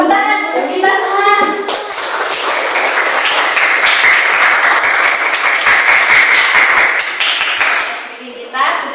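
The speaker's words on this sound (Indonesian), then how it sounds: "Tepuk tangan untuk kita semua." Children in a classroom clap together in steady, dense applause lasting most of the moment, with brief voices at the start before the clapping fades near the end.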